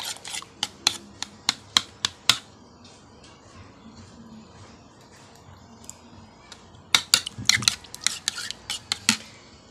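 An aloe vera battery mixture is stirred in a container, making rapid scraping clicks and taps in two brisk bursts separated by a quieter pause.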